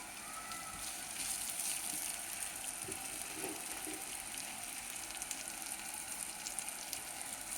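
Masala vermicelli cooks in a pan with turmeric, coriander powder and ginger-garlic paste, giving a faint, steady sizzle with light crackles.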